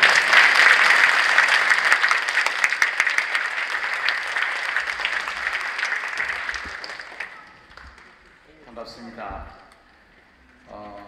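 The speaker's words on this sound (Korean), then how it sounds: "큰 박수로 환영해 주시면 좋겠습니다" Audience applause at a 2022 multicultural choir contest for migrants held by a Korean church association, loud sustained clapping from a large crowd that gradually thins and fades, followed by someone speaking near the end.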